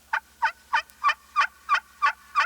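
Turkey yelps worked on the edge of a slate call, high and thin like a young hen: eight evenly spaced, crisp notes in a steady rhythm, close and clear with no talking.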